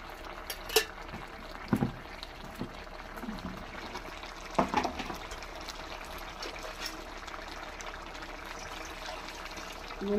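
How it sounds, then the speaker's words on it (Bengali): A pot of thin, slightly sweetened vegetable and fish curry simmers and bubbles steadily on the stove, with a few soft clinks and splashes over the low liquid hiss. "আর একটু ফুটবে।"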